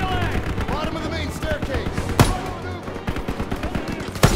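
Machine guns rattle in Call of Duty WW2 in rapid close bursts, with sharp louder shots punching through the steady fire. Battle noise and voices run underneath.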